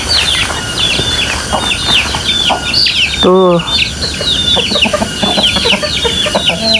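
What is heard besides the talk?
chickens clucking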